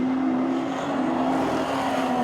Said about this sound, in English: McKeith has put the hammer down.